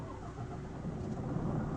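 A truck driving forward in a video game, a steady low engine rumble with road noise, continuous and fairly close for under two seconds.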